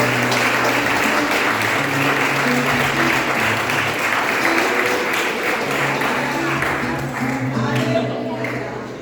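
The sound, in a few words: church congregation applause for Jesus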